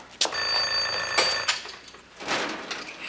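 A telephone in a house rings with a bright, trilling electronic bell burst, followed by a couple of knocks and soft shuffling noises.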